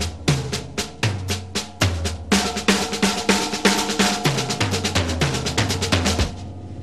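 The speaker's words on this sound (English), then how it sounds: "you can do that on the snare or the tom-toms, like this" A drum kit plays an accented groove moving between snare and tom-toms with the other hand ghosting soft notes throughout; dense, steady hits with lower tom strokes standing out, close and loud, no talking.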